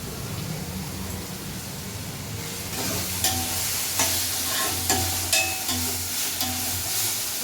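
Chicken gravy ingredients sautéing in a pan, a continuous close sizzle with intermittent scraping stirs and clinks from a spoon in the second half.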